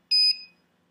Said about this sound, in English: That's alarming, saying the battery voltage is low.